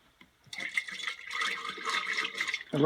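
Antifreeze pours steadily into a drain P-trap for a couple of seconds, a soft gurgling trickle, ending with a louder splash or knock.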